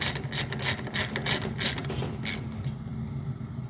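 Ratchet clicking rapidly in short bursts while a GripEdge bit tightens a rounded hex or Torx fastener, close and crisp, then fading to quiet mechanical handling with no talk.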